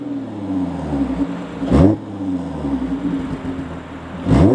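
Audi B8.5 S5 fitted with an AWE Touring exhaust revs hard twice, each sharp throttle blip rising and falling over a steady idle rumble, close and loud with no talking.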